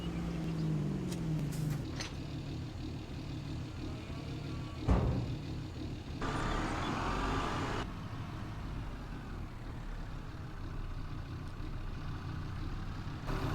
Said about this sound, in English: why don't we take the Lizard F350 and the utility trailer now for skid steers?